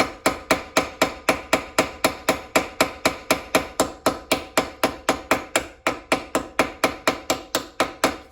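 Rapid, regular hammer blows land on a pop rivet while a Dinky Jaguar toy car is being repaired, a close, loud metallic tapping of around thirty strikes that keeps a steady rhythm without speech.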